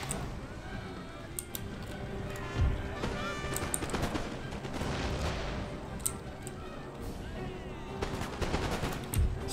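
Musket volleys crackle in a dense, continuous battlefield din from Empire: Total War, with Russian line infantry firing at will, shots overlapping and ragged and a couple of heavier booms standing out.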